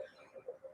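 Near-silence with a few faint murmurs, then a single sharp, loud cough bursts out at the very end, close to the microphone.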